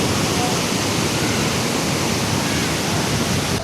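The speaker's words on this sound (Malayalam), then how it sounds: "ആ വെള്ളച്ചാട്ടത്തിൽ നിന്ന് വീഴുന്ന വെള്ളം എന്താ ഈ സൈഡിൽ കൂടെ ഒക്കെ ഒഴുകി ഈ സ്റ്റെപ്പ് വഴിയൊക്കെ ഒഴുകി പോകുന്നുണ്ട്" Water falling from a waterfall and running down steps by a dam viewpoint, a steady, loud, broadband rush that holds constant throughout with no breaks.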